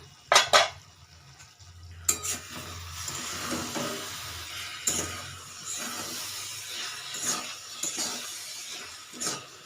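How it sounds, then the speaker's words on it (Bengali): Mushroom curry stirred in a pan over low heat, with sharp metal clinks at the start, then scraping strokes and light knocks over a soft simmering hiss, close by, with no talking. "আবার এটাকে একটু নাড়িয়ে দেব"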